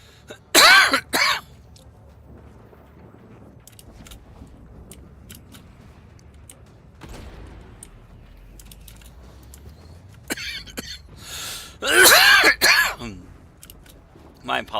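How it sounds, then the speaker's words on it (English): A person coughs and clears their throat in two loud, harsh bursts, one early and one near the end, with quieter room noise and faint clicks in between. "My apologies for the coughing."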